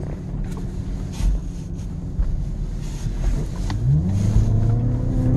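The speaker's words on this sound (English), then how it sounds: "You just get on it and the car really takes off." A roughly 400-horsepower car accelerates hard while driving, its engine note building and rising in pitch over steady road and wind rush inside the cabin, with no talking.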